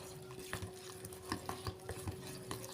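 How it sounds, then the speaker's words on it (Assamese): A utensil stirs pitha batter of atta flour, water and milk in a bowl, with soft repeated clinks and scrapes in an uneven rhythm, close and fairly quiet with no talking. "আৰু খুব ভালদৰে মই এইদৰে মিক্স কৰি ল'ম।"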